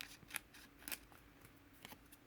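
Scissors snip off glued paper edges on a craft project. Several crisp, close cuts come at irregular intervals against a quiet background, with no talking.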